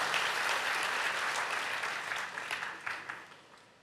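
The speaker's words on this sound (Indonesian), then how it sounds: "Kasih tepuk tangan bagi Tuhan Yesus" A church congregation applauds during a Sunday worship service, a dense wash of clapping that holds steady and then thins and fades toward the end.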